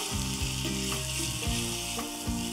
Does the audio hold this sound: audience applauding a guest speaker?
no